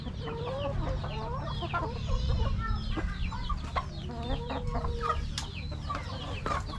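Hybrid Thai-breed chickens cluck and chatter continuously at close range, several birds overlapping in a busy, steady flock murmur.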